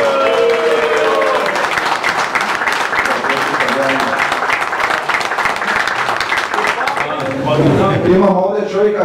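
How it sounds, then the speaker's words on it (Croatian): An audience applauds a rally organiser at a rally event, dense sustained clapping filling the room, with a voice speaking over it and the applause thinning near the end. "to je Dejan Roginić, molim vas aplauz za njega."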